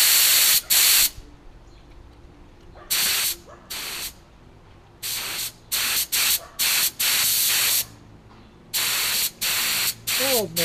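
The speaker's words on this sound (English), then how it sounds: "so I put a little lacquer thinner in there just to see if it'll spray still" DeVilbiss JGA-502 spray gun loaded with lacquer thinner, fired in a series of loud, hissing bursts of varying length separated by short pauses, with quieter background noise between bursts.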